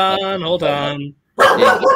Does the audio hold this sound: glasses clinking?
no